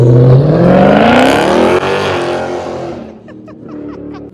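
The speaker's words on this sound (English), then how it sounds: "Red, yeah, red car." A red car on a suburban street sweeps past close and loud, its engine note rising and then fading away, with a faint twittering sound behind it.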